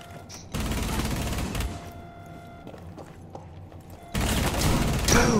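Gunfire in the video game Rainbow Six Siege, two loud sustained bursts of rapid shots separated by a quieter stretch of in-game ambience and mechanical hum.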